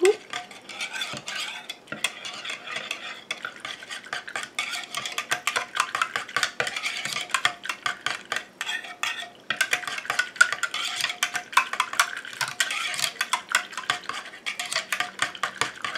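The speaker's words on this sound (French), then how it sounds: "Et je mélange jusqu'à ce que ce soit dissous." A utensil stirs allantoin and urea into the water phase of a homemade rose body cream, making a rapid, continuous train of light clinking and scraping taps against the container at moderate volume.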